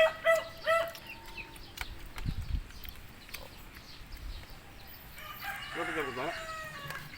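Chickens and a rooster at a chicken farm, with clucking and a crow rising mid-distance over a quiet outdoor background, faint voices and clinks at mealtime nearby.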